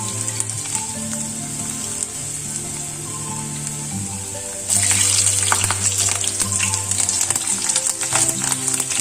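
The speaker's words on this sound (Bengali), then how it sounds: "আদাটা সামান্য ভাজা হয়ে গেলে" Ginger sizzles and fries in hot oil with bay leaf and cumin seeds as the spice tempering for a potato, chickpea and taro curry. A steady crackling hiss carries throughout and grows louder and brighter partway through, with no talking.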